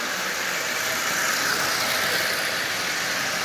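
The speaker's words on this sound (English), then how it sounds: "this locomotive is running just absolutely splendidly" A Lionel 8200 dockside switcher model locomotive on AC track power, pulling eight full-size Lionel cars, gives a constant whirring motor hum with a fine rattling buzz, steady throughout.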